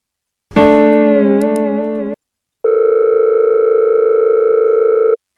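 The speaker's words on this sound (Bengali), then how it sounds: "এক কাজ করি, ছেলের কাছে ফোন দিই।" A phone call ringing tone, loud and close: a wavering electronic tone lasting about two seconds, a short gap, then a steady flat tone of similar length, with nothing else in the background.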